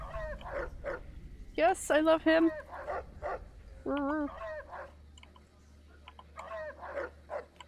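A dog in the Fallout New Vegas video game yips and barks a few times amid game effects, with people talking over it throughout.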